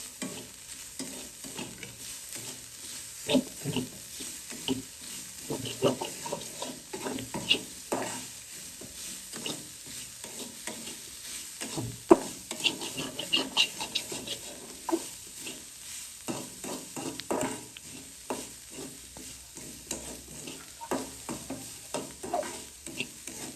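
Grated bitter gourd being stir-fried with turmeric and salt in a pan, soft continuous sizzling broken by irregular scraping and clinking of a spatula, close and fairly quiet.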